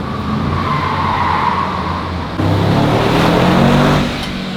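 Formula 1 race cars at the Monaco Grand Prix roar past close by. A steady loud engine drone jumps to a harder, louder surge midway, then fades slightly at the end.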